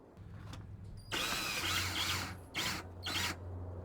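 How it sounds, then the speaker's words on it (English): A power drill drives screws joining sections of a wall-mounted fireplace vent: one longer whirring burst, then two short ones, quiet and fairly close over a low background hum. "Then the vent sections are screwed together and the cap is attached to the sheathing."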